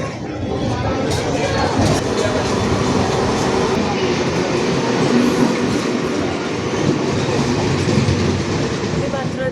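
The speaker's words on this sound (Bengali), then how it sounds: "ট্রেন ঢুকে গেছে" A local commuter train pulls into a suburban railway station, a loud continuous rumble of wheels and carriages with rhythmic clatter, close and sustained throughout.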